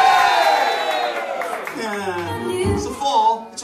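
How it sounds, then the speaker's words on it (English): Wedding guests cheer and whoop for the bride and groom, a crowd of voices rising together with some scattered clapping, and speech mixed in. "Spontaneously cheer, okay?"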